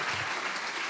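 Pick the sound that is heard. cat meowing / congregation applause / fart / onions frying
congregation applause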